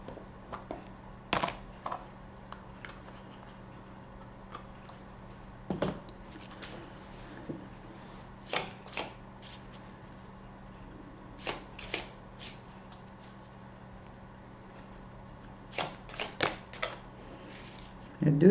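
A deck of oracle cards is shuffled in repeated short riffling bursts, with a couple of cards dropping out, the crisp snaps standing out over a quiet room hum.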